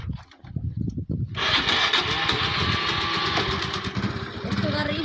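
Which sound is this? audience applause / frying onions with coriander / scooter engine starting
scooter engine starting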